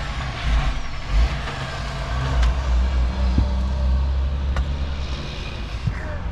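Big trucks rumble past at the Port of Brisbane, a steady low engine drone with brief hissing air-brake bursts and a faint reversing beep, heard fairly close with no talk.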